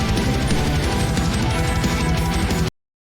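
Dense symphonic metal, with rapid galloping keyboard notes buried in a loud wall of pounding drums and distorted guitars, cutting off abruptly into silence.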